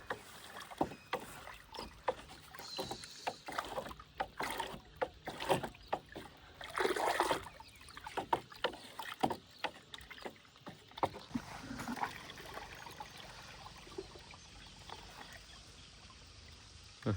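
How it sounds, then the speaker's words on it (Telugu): Irregular splashing and sloshing of water mixed with liquid fertilizer poured over moringa plants, with scattered bursts and gurgles, fairly close, no talking. "డ్రెంచింగ్ చేస్తున్నాం మొత్తం ఇట్లా"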